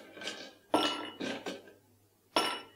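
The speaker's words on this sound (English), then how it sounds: "We start with a glass full of ice." Ice cubes clink into a glass for strawberry sangria iced tea, arriving as four separate bright clattering bursts with quiet gaps between.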